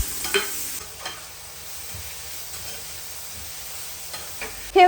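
Chana dal and onion fry in a pan with a steady close sizzle and occasional stirring scrapes, a sharper clatter at the very end, and no talking.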